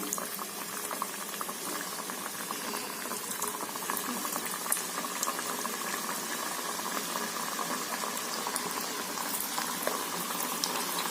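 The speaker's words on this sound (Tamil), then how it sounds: "இப்போ இதை நம்ம பொறிச்சு எடுத்துக்கலாங்க" Coconut vadai deep-frying in hot oil, a steady dense bubbling crackle that runs unbroken and fairly loud, with no talk over it.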